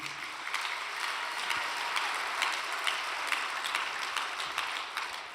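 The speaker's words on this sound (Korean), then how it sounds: "여러분 감사의 박수 한번 올립시다." A church congregation gives a long round of thankful applause after a testimony, many hands clapping in an even, sustained roar that carries on steadily from start to finish.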